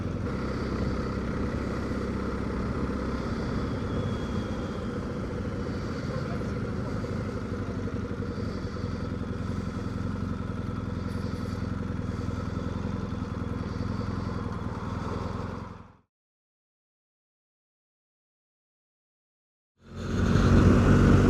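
BMW R1250GS motorcycle riding along country lanes, a steady, loud engine drone mixed with wind rush for about fifteen seconds, then a sudden cut to silence before the engine noise returns.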